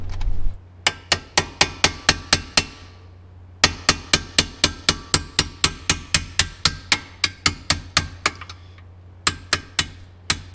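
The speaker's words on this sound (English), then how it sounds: "Tap out these pins, get that nut out of the way," A hammer taps out the brake pad retaining pins on a Ferrari 458 in sharp, evenly spaced metallic strikes, about two per second. The strikes come in three runs separated by short pauses, ringing clearly against a low steady hum.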